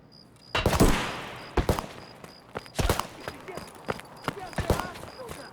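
Several sharp gunshots in Escape from Tarkov, irregular and echoing at mid distance, with softer footstep-like thuds and muffled voices between the shots.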